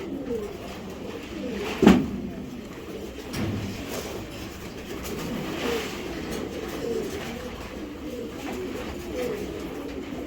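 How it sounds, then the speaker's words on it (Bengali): A young racing pigeon coos softly in repeated low phrases near at hand, with a brief louder bump of handling noise early on and faint traffic-like rumble behind, no voices. "একটা ইয়ং কবুতর দেখেন কবুতরের শেপ কোয়ালিটির চেহারা দেখেন"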